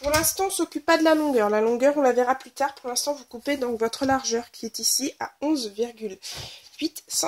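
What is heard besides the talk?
No everyday noise stands out behind the speech.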